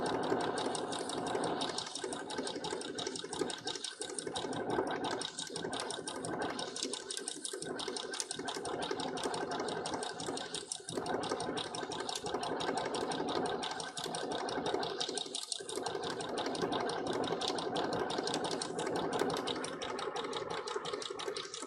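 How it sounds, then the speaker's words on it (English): A sewing machine stitches a One Piece Big Mom Jolly Roger cosplay flag, running in a steady rapid mechanical whir with brief slowdowns and pauses, close and alone. "You can't see them once I sew over them."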